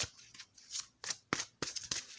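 A deck of tarot cards is shuffled by hand, several quick riffling bursts of crisp paper flicking, close and clear with brief pauses between.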